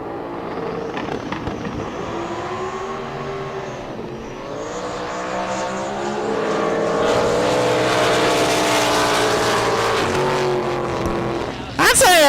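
A drag racing boat engine roars continuously through a test pass at a Southern Drag Boat Association event in Bryan, Texas, loud and sustained with revving pitch swings, and an announcer talks over it.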